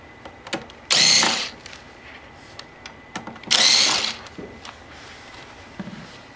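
Power drill backing screws out of a Numark CDX CD drive, two loud whirring bursts of about a second each, separated by quiet handling clicks.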